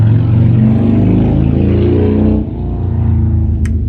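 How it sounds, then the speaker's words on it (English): A motorcycle roars past on a warm day. The close engine drone is loud and steady, then dips and fades slightly as the machine moves off. "That, my friends, was a motorcycle."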